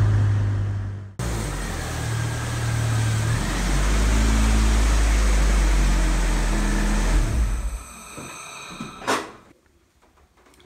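A Honda Civic with a manual transmission pulls through its gears with a loud, steady engine drone that rises and shifts in pitch, then cuts off and is followed by a couple of sharp knocks and rattles.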